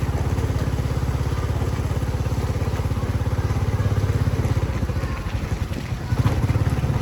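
A motorcycle engine putters steadily for several seconds as it rides along a street in Battambang, Cambodia, a continuous close, throbbing drone with a slight surge near the end.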